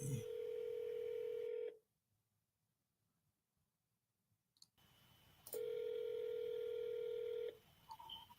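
Telephone ringback tones on an outgoing seller call: a long steady electronic tone, a stretch of silence, then the tone again, loud and close with a few faint clicks.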